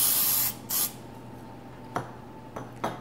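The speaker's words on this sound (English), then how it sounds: "Then I'm going to spray them with some oil" Two short aerosol spray bursts of oil onto beets on a Silpat-lined tray hiss loudly at the start, followed by a few faint clicks and taps in a quiet room.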